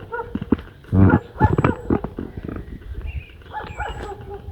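A dog barks repeatedly outdoors along a road at dusk, loud bursts mixed with yips and other scattered noises nearby.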